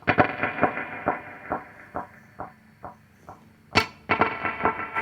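Percussive guitar hits through an EarthQuaker Devices delay pedal feed into a chain of echoing repeats that fade one after another in a wash of reverb, then a fresh burst of strummed hits.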